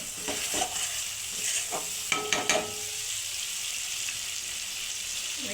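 Spice masala being stirred and sautéed in a pan for a Bengali fish dish, a steady sizzle under scraping spoon strokes, with a few sharper clinks near the middle, close and fairly loud, no talk.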